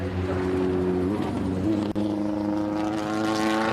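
An endurance race car missing gears on a hill climb, its engine droning with rising and falling pitch and a sharp break mid-pass as a shift falters, loud and close.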